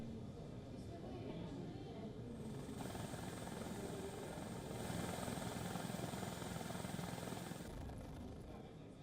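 Helicopter flying over an avalanche rescue scene in the mountains, a steady loud rotor and engine drone filling the whole stretch, swelling slightly midway, with no voices.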